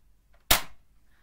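A single sharp shot from a Nerf gun in the House Horror video game, one abrupt crack with a short fading tail, alone in otherwise near silence.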